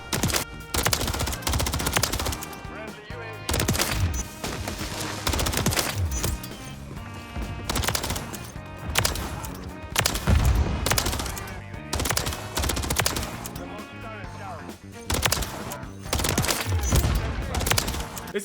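In a video game, an SMG fires in dense, rapid automatic bursts, loud and nearly continuous, with brief pauses between the strings of shots.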